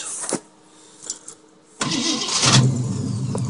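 An AMC Hornet car engine cranks and fires: a few short starter clicks and whirs, then it catches into a loud, steady close idle that holds to the end.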